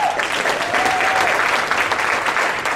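Audience applause at a salsa dance anniversary event, steady dense clapping from a crowd filling the whole moment, with a brief whistle-like tone rising over it early on.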